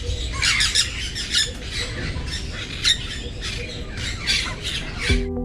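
Scarlet ibis squawking, a flurry of repeated harsh, raspy calls close by, several birds overlapping in quick irregular bursts.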